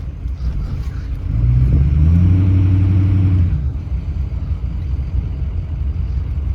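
A 2004 Ford F-250 Power Stroke diesel pickup idles with a deep rumble, briefly revving louder for a couple of seconds before settling back to a steady idle.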